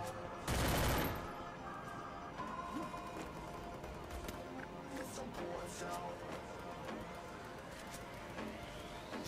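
Gunfire in a mobile shooter game, a loud sharp burst near the start followed by faint scattered shots and clicks beneath continuous game noise and a commentator talking.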